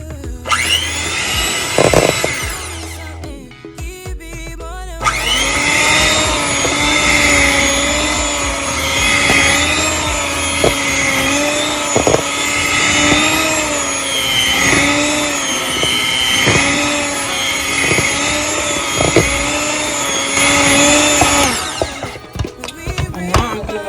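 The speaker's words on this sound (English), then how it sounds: "I already started blending it." An electric blender whips mashed potatoes with butter. A short loud whir comes first, then after a pause comes a long steady high-pitched motor whine that wavers slightly before cutting off.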